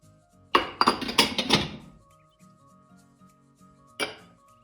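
Butter goes into a deep bowl for ice-cream cookie dough: a quick run of close clinks and soft thunks from utensil and bowl, then quiet, then one more short clink.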